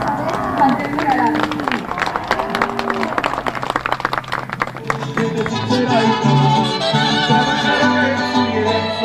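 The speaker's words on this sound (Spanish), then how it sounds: "les pido un fuerte aplauso" Crowd at a traditional coleadero charro event in Nochistlán clapping and cheering, a dense burst of applause mixed with voices and an announcer talking over the noise.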